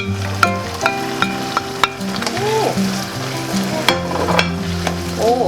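Steady sizzling and frying as green onions are stir-fried with cabbage in a hot pan for tteokbokki, with clinks and scrapes of a utensil stirring the food.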